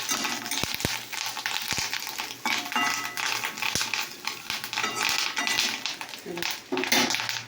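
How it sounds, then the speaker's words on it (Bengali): Fish roe fries in oil with a continuous close sizzle broken by sharp popping snaps scattered throughout, loud and crackly. "এরকম ভাজা হচ্ছে মাছের ডিম, পটপট করে কুচি দেখছিলাম তো।"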